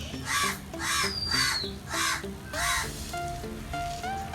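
Harsh crow caws repeat in a steady run of about five loud, nearby calls, then fade. Sustained musical tones continue underneath throughout.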